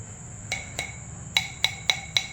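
A seasoned traditional stone cooking pot (kalchatti) is tapped, giving six short, bright ringing knocks, two spaced apart and then four in quicker succession, close and clear over a quiet background.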